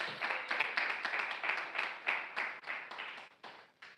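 Church congregation at a sermon clapping in a steady, fairly fast rhythm, a dense burst of many hands that fades slightly toward the end, with no talking over it.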